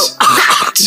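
A voice makes a phlegmy, raspy throat-clearing cough, imitating the sound: one long harsh, hissy burst followed by a shorter second rasp, close and loud.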